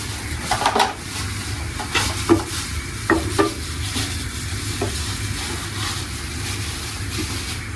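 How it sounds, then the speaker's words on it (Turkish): Butter sizzles and melts in a hot pan with a soft, steady frying crackle, punctuated by a few light clicks and scraping taps of stirring in the first few seconds. "Şöyle tereyağımız eriyor."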